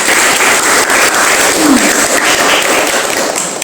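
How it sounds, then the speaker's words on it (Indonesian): Applause from a classroom audience during a micro-teaching lesson on Islamic jurisprudence, steady dense clapping that fills the whole stretch at a constant loud level, with no voices over it. "Masya Allah, berikan aplaus."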